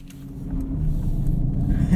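A 2023 Mercedes-AMG EQS electric car accelerates with its synthetic drive sound, a steady low hum that builds gradually over two seconds on a canyon road, heard close from inside the cabin.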